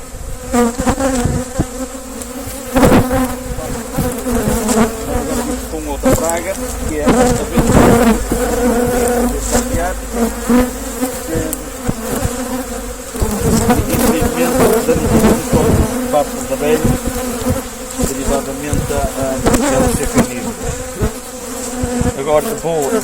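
Honeybees buzz densely around an opened hive, a loud, close, continuous droning swarm with individual bees whining past in shifting pitches throughout.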